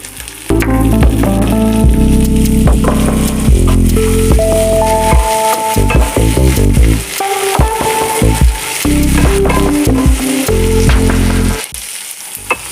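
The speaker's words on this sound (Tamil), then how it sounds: "தக்காளி நல்லா வதங்கணும்" Chopped tomato sautés with golden onion in a pan for a coriander chutney, giving a continuous sizzle and the scrape of stirring beneath prominent background music.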